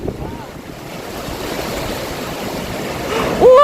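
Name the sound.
big ocean waves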